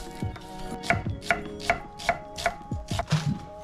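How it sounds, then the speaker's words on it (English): A knife slicing through a whole onion on a cutting board, about eight crisp, regular chops spaced roughly half a second apart, close and clear with no talking. "I'm gonna prep up our garlic and onion while that's cooking away. Slice these up."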